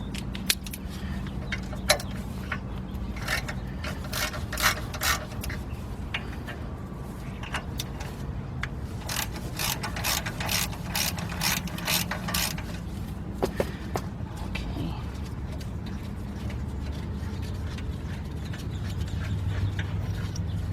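A ratchet wrench clicks in quick rhythmic bursts while loosening the roughly 13 mm caliper bolts on a 1995 Ford Econoline E150, with metallic creaks and clanks from the brake assembly in between.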